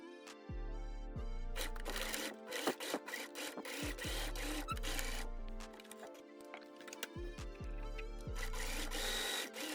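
Sewing machine stitching the seams of a fabric bag lining, several bursts of rapid mechanical whirring separated by short pauses, close and clear with no talking.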